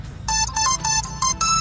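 A small Kechda mobile phone plays a ringtone of bright repeated electronic tones, five short bursts in a steady rhythm, close and clear with no talking.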